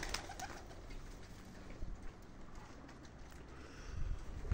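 German pigeons on a rooftop at dusk, a soft low cooing murmur running steadily under faint outdoor background noise, with a few light flutters and knocks.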